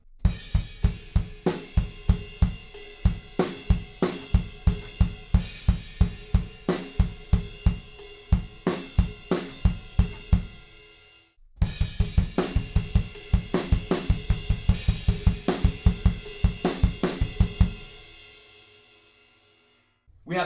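A drum kit plays a chorus beat with extra snare hits, a fast, driving run of loud, close strokes and ringing cymbals that stops, then repeats and ends on a decaying crash.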